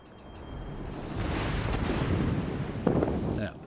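A warship's guns fire in the World of Warships: Legends naval video game, building into a heavy rolling rumble with a sharp report near the end before it fades.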